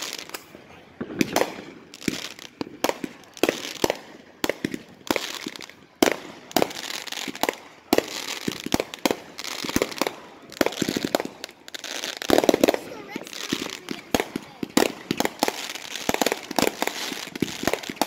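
Fireworks explode over Milford Beach in a rapid, irregular barrage of sharp cracks and pops, some loud and close, others crackling in quick clusters, keeping up for the whole stretch with faint voices in between.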